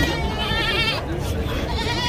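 Goats tied up at a village goat market in Loni, Rahata, Ahmednagar bleat loudly in wavering cries close by, with people talking over the crowded scene.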